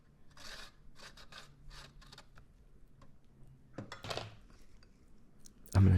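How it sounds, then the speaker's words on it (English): Radishes are rubbed across a grater in quick rasping strokes, a series of short close scrapes with pauses between them, ending in a louder knock. "For condiments, we're going to grate some radishes."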